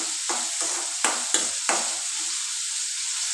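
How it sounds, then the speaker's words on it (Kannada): Onions fry in a pan as okra palya is cooked, a soft sizzle punctuated by five or six sharp scraping stirs in the first two seconds, then settling into a quieter, even sizzle. "ಈರುಳ್ಳಿ ಫ್ರೈ ಆಗಲಿ"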